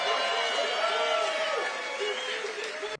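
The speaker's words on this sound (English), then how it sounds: "They need to work on their cheering. That half of those sound like boos." Rally crowd noise, a loud, dense roar of many voices cheering and yelling that carries a low, booing-like drone, sustained for about three seconds before cutting off abruptly.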